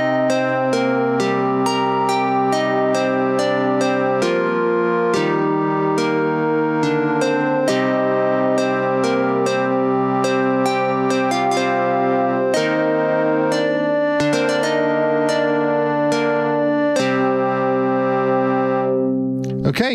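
Mela 6 AUv3 synth on its default preset, a clean, bright tone playing a steady run of plucked chord and melody notes, clear and continuous throughout with no talking over it.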